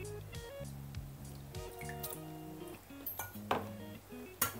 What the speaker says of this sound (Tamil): தண்ணி இல்லாமல் ஃபுல்லாக வந்து நல்லா வடிச்சிக்கலாம்.